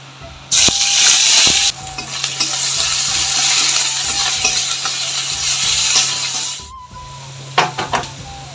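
Onion, ginger, garlic and tomato paste frying in a pan for green banana kofta, a loud steady sizzle broken by a few scraping stirs and clinks near the end.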